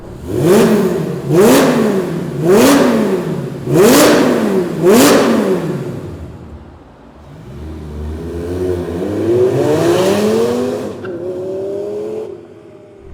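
A Lamborghini Gallardo Superleggera engine revs hard, giving four sharp rising and falling blips up close, then a longer pull that climbs through the gears and fades off.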